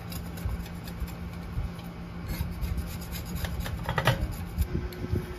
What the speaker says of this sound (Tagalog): Nilagyan niya ng alcohol para matanggal yung adhesive.